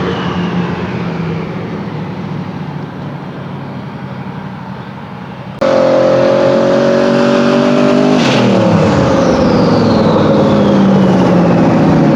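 A car accelerates hard on a test hit, its engine roaring loud and close, then jumping abruptly to a fierce high-revving scream that climbs and holds, with a brief sharp burst midway; no talk.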